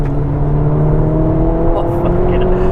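A Mk1 Ford Focus RS is driven hard into corners, its engine holding a loud, steady droning note from inside the cabin, with faint voices in the background.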